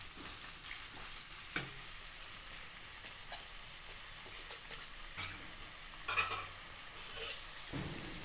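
Tomatoes frying in a pan, a steady faint sizzle with occasional louder crackles and a few stirring scrapes, no voices.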